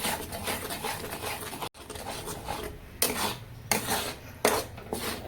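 Masala being stirred in a pan on a gas stove: a utensil scrapes and rubs against the metal in repeated strokes, with sharp clinks as it knocks the pan's rim, close and without talking.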